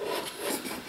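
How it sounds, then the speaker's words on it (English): A wooden lid slides along the grooves of a handmade, lightly sanded sharpening box, giving a steady, close wood-on-wood rubbing that runs the whole moment without pause. "this lid does slide much easier, and it's a nice fit"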